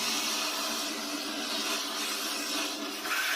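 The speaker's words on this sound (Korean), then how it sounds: "청소기를 이용해서 한번 빨아들여 보겠습니다" A household vacuum cleaner runs continuously as it sucks up small wet objects, including a toothbrush, giving a steady loud whooshing hiss with a brief shift in tone near the end.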